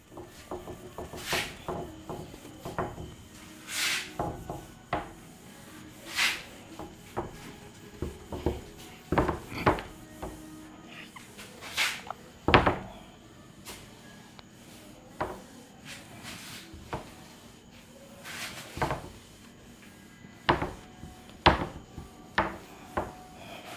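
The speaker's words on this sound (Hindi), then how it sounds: "तो चलिए इस तरीके से हम रब करते हैं" A board is rubbed clean during a physics lesson, giving irregular scraping, brushing strokes with scattered light knocks and taps, fairly close, with no talking.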